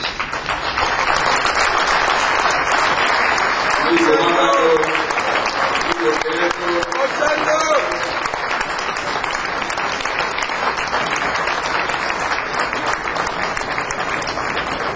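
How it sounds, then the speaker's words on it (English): Sustained applause from an audience following a governor's speech at a 2007 Detroit event, a dense, even roar of clapping lasting throughout, with brief voices rising faintly beneath it partway through. "Please, another round of applause for His Excellency"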